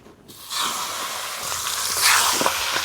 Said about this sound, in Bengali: কড়াইতে তেল দিয়ে দিয়েছি তেলটা গরম হয়ে গেছে এবার মাছের মাথা ছেড়ে দিচ্ছি